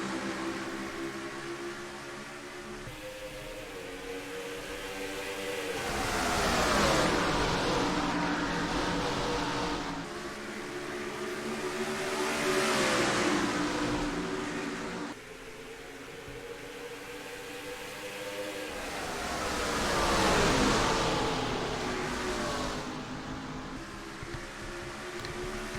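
Stock cars race under green in the NR2003 video game at Phoenix Raceway, their simulated engines droning loudly and continuously, with two rising, swelling surges as the pack sweeps past, and no talk.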